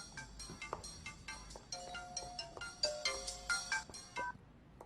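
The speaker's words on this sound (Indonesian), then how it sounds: "Telepon lagi." A phone ringtone plays a repeating electronic melody in a quick rhythmic pattern, fairly close and clear, from a scene in an Indonesian film, with no talking over it.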